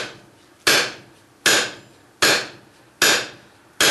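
Hammer blows forging a taper on the end of a metal bar over an anvil, five loud ringing strikes at a steady, unhurried rhythm, each decaying before the next.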